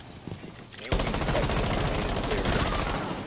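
Sustained automatic gunfire in Rainbow Six Siege, with a loud continuous burst that starts abruptly after a short quieter stretch and rattles steadily to the end.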